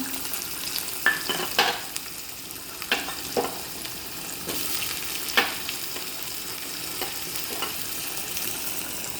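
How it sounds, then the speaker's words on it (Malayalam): Steady sizzling of onion frying in hot coconut oil with cumin, with several sharp clinks and scrapes of stirring scattered throughout, no voices. "ജീരക പൊട്ടിയിട്ടുണ്ട് ഉള്ളി ചേർത്ത് കൊടുക്കുക"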